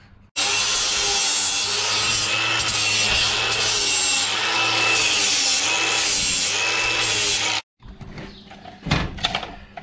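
A power saw grinds loudly and continuously through metal pipe, notching it for a custom tray and sliders on a Nissan GU Patrol build, then cuts off abruptly, leaving quieter clunks and handling noises.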